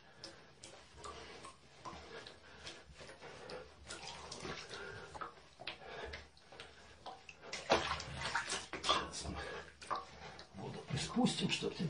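Tap water runs into a bath as a cat is washed, a steady splashing stream with irregular louder surges and small knocks, close by.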